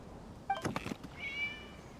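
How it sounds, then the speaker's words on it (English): A single short cat meow in the video game Genshin Impact, fairly clear and close, with a brief rustling noise just before it. "It was just a cat."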